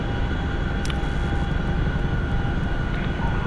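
Chinook helicopter in a video game: a loud, steady rotor and engine drone that fills the whole stretch without a break, heard close and alone.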